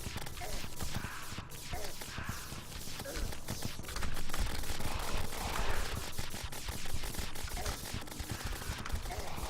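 A rainbow gun firing in Terraria 1.2.4 during the First Moon event, a dense, continuous stream of rapid crackling bursts that stays loud and busy without a pause.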